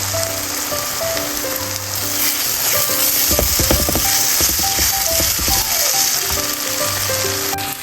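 Chili, turmeric and curry powder spices frying in a pan, a loud continuous sizzle with scraping stirring clicks midway, close up, with no talking.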